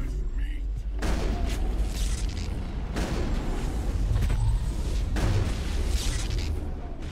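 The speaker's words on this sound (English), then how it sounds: "Explosions going off left, right, and center." Heavy explosions boom in the Mass Effect video game during a fight with Batarians, with three big blasts a couple of seconds apart over a constant rumbling battle din.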